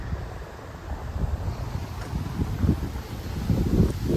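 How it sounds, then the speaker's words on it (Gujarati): Wind gusts outdoors on a residential street in Canada, a low buffeting rush against the microphone that swells and fades over a few seconds, with no one speaking. "પવન આવી રહ્યો છે આજે."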